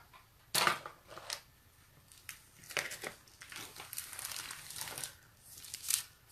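A sheet of white velvet paper is handled, giving soft crinkling and rustling with a few sharper crackles, close and fairly quiet, in irregular bursts with no talk.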